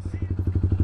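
A motorcycle engine revs in short, rhythmic pulses, about ten loud throttle blips in under a second, close by with a steady low rumble underneath.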